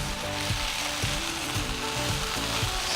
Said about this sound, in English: Hash browns are cooking.